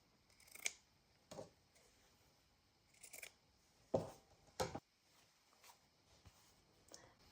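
Scissors snip down loose thread ends on a handmade autumn junk journal with Inkslinger-style binding, a few quiet, separate cuts spread over several seconds, close and soft with no talk.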